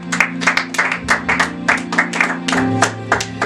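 A church congregation claps in a quick, fairly even rhythm of loud close hand claps over a sustained musical hum, with a few faint voices mixed in.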